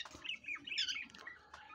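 A lovebird gives several sharp, raspy squawks and chirps close by, in short irregular bursts with brief pauses.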